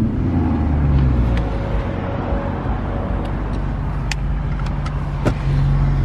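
A Maserati sports car engine idles steadily with a low rumble, close by, with faint road traffic noise and occasional brief higher tones over it.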